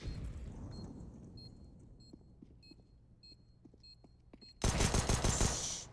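A rapid burst of automatic gunfire erupts loudly near the end of a CS:GO match on the Mirage map, after quieter footsteps and faint clicks.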